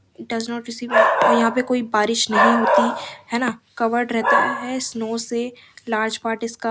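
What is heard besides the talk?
dogs barking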